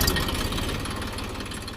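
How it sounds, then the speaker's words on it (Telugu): A farm tractor engine runs steadily just after starting, with a close, continuous low throbbing idle and a knocking pulse, no voices over it. "ఇప్పుడైతే ట్రాక్టర్ అయితే స్టార్ట్ అయింది"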